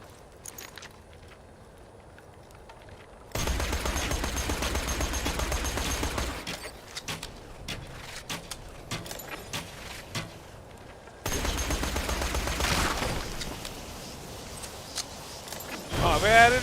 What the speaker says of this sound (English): that machine gun runs out of ammo really fast